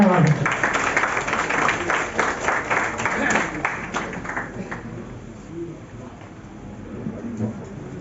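Audience applause at the All India Momin Conference in Dhule as a schoolgirl goes up to receive a prize, steady clapping from a hall crowd that fades after a few seconds, with faint chatter underneath.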